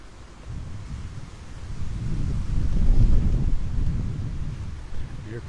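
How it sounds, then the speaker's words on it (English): Wind gusts across a beach at Delnor-Wiggins on a clear day, a steady low roar of buffeting against the microphone that swells toward the middle and eases again, with no voices. "Here comes the wind."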